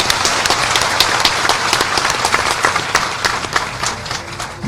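Crowd at a Maratha community gathering in Jalna clapping loudly, dense sustained applause with sharp individual claps throughout, no voices.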